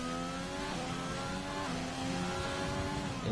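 A McLaren race car engine screams in a racing video game, a loud continuous high-revving whine rising and falling through gear changes over a few seconds, with no talk.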